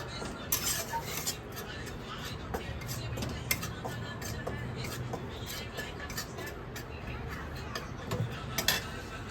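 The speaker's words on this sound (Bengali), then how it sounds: "এটাও ভালো করে রোস্ট করবো আমি।" Gram flour (besan) roasts in a pan while a utensil repeatedly scrapes and clinks against the metal, a close, busy clatter over a soft sizzling background.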